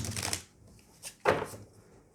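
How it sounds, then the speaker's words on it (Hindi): A deck of tarot cards being shuffled in a few quick riffling bursts, a longer rustle at the start and another after a short pause, close and fairly quiet with no talking. "चलिए डेक शफल कर लेते हैं"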